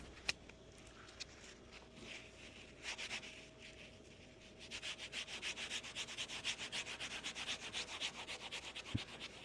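A Snap-on cleaning wipe scrubs hand tools with soft, quiet rubbing that turns into a steady back-and-forth rhythm halfway through, close but faint, with no voices.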